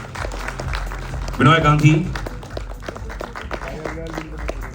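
Audience applause at a Bollywood film teaser launch, a spatter of claps running steadily beneath someone speaking into a microphone.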